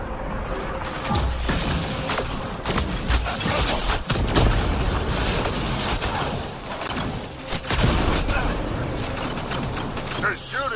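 Gunfire during a firefight in the video game Mass Effect: Andromeda, a loud, continuous stretch of rapid shots, bursts and mechanical clatter with voices mixed in.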